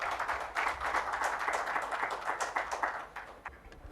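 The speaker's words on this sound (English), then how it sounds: "Let's put a big round of applause for Mr." Applause from a conference audience at a tech awards keynote greets a speaker. It is a steady, dense wash of clapping that holds loud for about three seconds, then thins toward the end.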